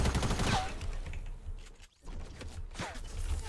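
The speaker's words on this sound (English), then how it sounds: "I'm shooting him." Rapid bursts of gunfire in the Fortnite Battle Royale video game, loud clattering volleys of shots in quick succession, with a brief lull before firing resumes.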